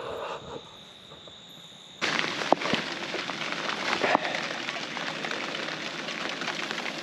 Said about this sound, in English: it is raining and it's been raining for quite some time.